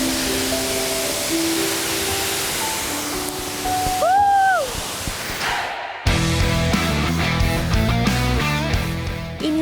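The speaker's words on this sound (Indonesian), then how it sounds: "Ini dia air terjun tingkat paling atas" The top tier of the Tumburano waterfall on Wawonii Island, a broad steady roar of falling water that drops away briefly near the middle before a louder, busier stretch with faint tonal sounds over it.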